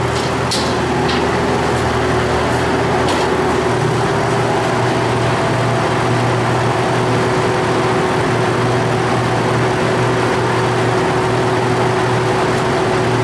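A clay pugmill at a farm pottery runs continuously, extruding clay with a steady mechanical hum and drone. A few faint clicks sound early on, and there is no talk.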